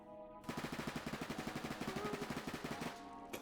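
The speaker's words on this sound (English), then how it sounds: "Next up on the list we've got the MP5K. Obviously it's an SMG, 30 bullets in the mag, and let's test the recoil out." MP5K submachine gun firing a sustained automatic burst in the Roblox game Jailbird, rapid evenly spaced shots for about two and a half seconds, loud and close, ending abruptly with a short click.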